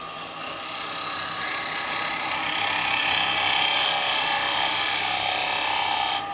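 A wood lathe with a bowl remounted on it spins up and settles into a steady, loud, continuous whirring hum, running evenly with a faint mechanical whine throughout.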